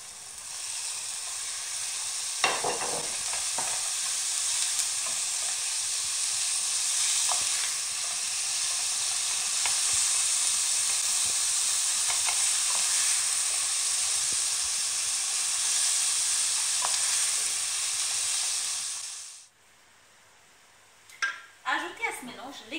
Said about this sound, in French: Ajoutez la viande hachée émietée, bien mélanger et laisser cuire pendant 10 minutes.